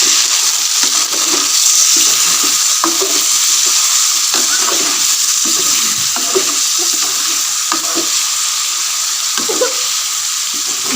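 Chicken and okra (bhindi) are stirred in a hot pan. A spatula scrapes and clatters in an irregular rhythm over a continuous loud sizzle, with no talking.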